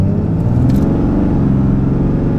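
A 2021 RAM 2500 Cummins diesel pickup accelerates hard from a launch, a loud steady low engine roar heard from inside the cab, continuous with no break.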